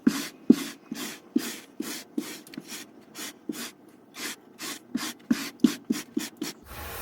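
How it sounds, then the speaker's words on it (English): A bristle brush paints the ceiling of an RV camper bedroom, making repeated short, close rasping strokes in an irregular rhythm, with brief pauses between the scrubbing sweeps. "back to the bristle brush"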